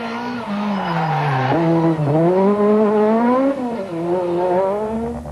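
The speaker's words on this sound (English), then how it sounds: "The 2-wheel drive 306s certainly looked and sounded spectacular" A two-wheel-drive Peugeot 306 rally car racing at Rally Catalunya 1997: a loud, close engine howl climbing and dropping through gear changes, continuous and strained throughout.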